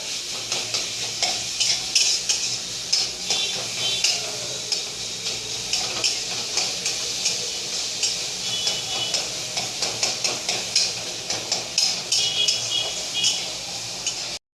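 Food is stirred in a pan with a spatula, making a rhythmic run of scraping and clicking strokes over a steady sizzle. The strokes are close and regular, with no talking.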